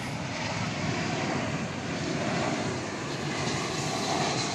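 Jet aircraft engine roar at DFW Airport, a steady, loud broadband rumble and hiss that holds without a break, with no voices over it.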